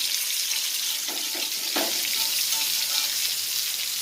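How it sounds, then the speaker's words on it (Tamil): Seer fish (cheela) sizzles in hot coconut oil with a steady, bright crackling hiss that carries on throughout, close by. "தேங்காய் எண்ணெய் வந்து இந்த மாதிரி மீன் பொரிக்கும் போது ரோஸ்ட் பண்ணும்போது"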